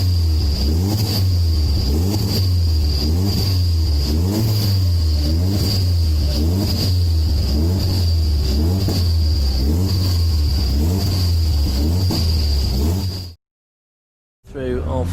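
A 750MC Mazda-series race car, number 36, sits on the Snetterton starting grid with its engine loudly and unevenly surging up and down in a rough, rhythmic rev before cutting out abruptly.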